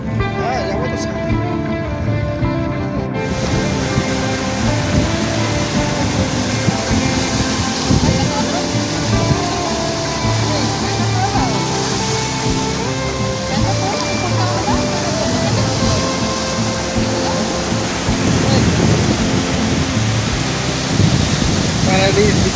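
Sea waves at Paradise Beach, Pondicherry make a loud, steady wash of surf that fills the whole stretch, with a faint voice underneath.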